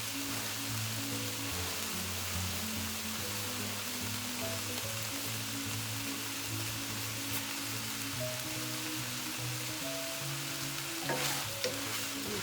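Khima sizzles steadily in a pan as frozen green onions go in, giving a continuous crackling fry with faint stirring and no talk.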